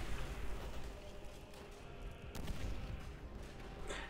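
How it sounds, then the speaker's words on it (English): Rifle fire rattles in Call of Duty: World at War, with distant bursts and booms over a rumbling battlefield bed, one sharper crack standing out midway. "All I can hear is just the rifles"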